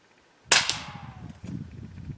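One sharp, quiet crack from a .22 caliber rifle firing CCI CB shorts ammunition, with a short ringing decay and some faint handling noise afterward.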